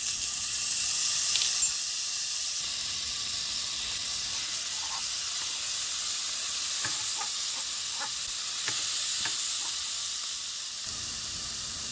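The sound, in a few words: minced garlic sizzling in melted butter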